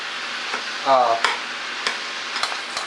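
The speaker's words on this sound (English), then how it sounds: "just break up your meat into tiny little pieces, stuffing size, and brown it up" Ground meat browning in a pan for stuffed green peppers, a steady soft sizzle with a few scattered scraping stirs and a brief low voiced sound partway through.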